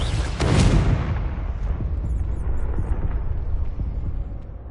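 A Confringo spell blast from the game Hogwarts Legacy: a loud, sudden explosive burst that rumbles and decays into a long, noisy roar and crackle.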